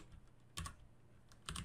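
Keystrokes on a computer keyboard, two quick bursts of a few clicks each separated by a pause, close and faint in a quiet room.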